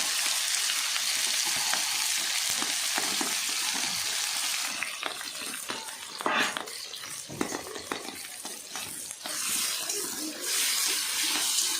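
Onions and green chillies frying in mustard oil, a loud, dense hiss at first that loosens midway into crackling and scraping stirs, then swells again near the end.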